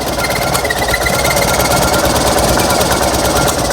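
A Fiat 126p engine runs on 92% denatured alcohol, chugging steadily with a rough, rapid, knocking clatter that stays loud and close throughout.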